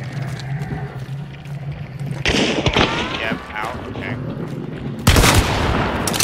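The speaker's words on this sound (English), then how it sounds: "Tagged him again with the shotgun." Alamo shotgun blasts in the video game Hunt: Showdown, two loud booming shots a few seconds apart, each with a ringing tail over background game ambience.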